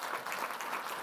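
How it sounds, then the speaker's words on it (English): Lecture audience applauding, a dense, steady wash of clapping from a hall full of people, moderately distant and continuous for the whole brief moment. "keep that applause going for someone who stepped in right at the last minute."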